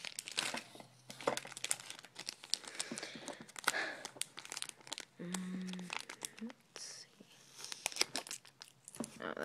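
Tape being torn off the packaging of a small Pokemon Froakie figure, with close crinkling and tearing rustles spread through the clip while a person talks over them.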